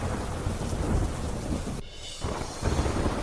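Heavy monsoon rain pours down in Bharuch, Gujarat, a dense, steady roar of rainfall with distant thunder rumbling through it, briefly thinning in the middle before the downpour swells again.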